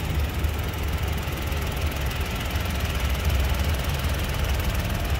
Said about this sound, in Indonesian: Nah ini dia 1200cc 3 silinder tanpa turbo.